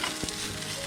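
Peppers and onions sizzling in a non-stick pan on a camp stove inside an Airstream trailer, a brief, steady close-up frying hiss with a single stir scrape.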